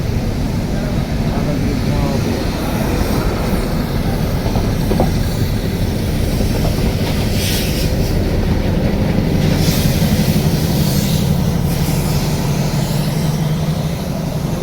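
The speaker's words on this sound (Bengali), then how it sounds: "এটা টয় ট্রেনের ইঞ্জিন।" The Ooty toy train of the Nilgiri mountain railway, running between Udagamandalam and Mettupalayam: a loud, steady rumble of wheels with clickety-clack and occasional squeal, continuous throughout, with people talking over it.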